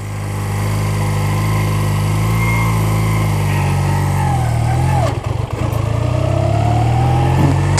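A manual-transmission vehicle's engine hums and revs steadily, loud and close, while shifting into second gear, with a brief clunk partway through and the engine droning on afterward.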